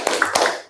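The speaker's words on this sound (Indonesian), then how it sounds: "Ice breaking tepuk semangat pernah?" A classroom of schoolchildren doing the tepuk semangat clapping ice breaker: a few quick, sharp claps in a short rhythmic burst, close and fairly loud, ending abruptly.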